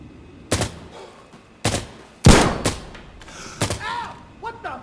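Gunfire in the video game Insurgency Sandstorm, several loud separate rifle shots with short pauses between them, a heavier blast near the middle, and a voice speaking between shots.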